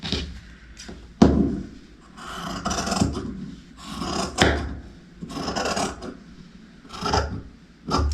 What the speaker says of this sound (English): Now, I'm just gonna cut on the drawn line.